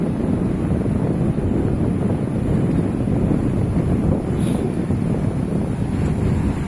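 Ocean surf at Bagasbas Beach on a fairly calm morning, a steady broad wash of waves with heavy wind buffeting the microphone throughout and no voices.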